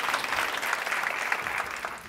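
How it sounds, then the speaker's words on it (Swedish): Audience applause fills a hall at a Swedish talk on diagnoses and children who stay home from school. A steady, dense wash of clapping runs throughout, at moderate loudness, with no voices on top. "Applådera."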